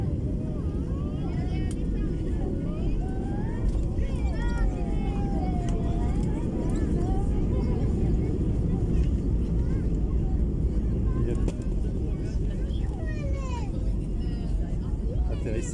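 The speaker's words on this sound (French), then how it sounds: "Atterrissage sans problème." Passenger airplane landing, a steady broadband rumble of engine and rolling noise from inside the cabin that holds level throughout, with people talking faintly beneath it.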